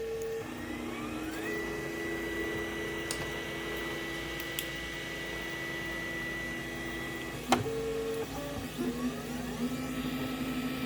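A 3D printer lays down its first layer with a steady motor whir and fan hum, tonal stepper notes shifting pitch as the head moves, and a small click partway through, heard from close by.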